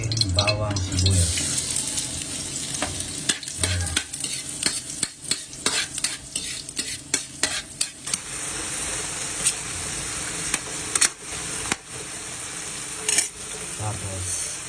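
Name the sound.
garlic and onion sautéing in a pan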